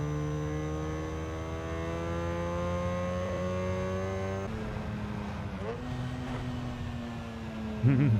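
A Mazda RX7 engine in Need for Speed Underground 2 drones steadily at a held rev, then shifts pitch partway through and climbs into a short, louder rev at the end. The sound is close and continuous.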